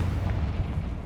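Confringo fire spell blast in Hogwarts Legacy, a short deep rumbling explosion with a dull boom that fills the whole brief moment.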